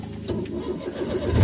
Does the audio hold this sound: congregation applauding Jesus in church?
no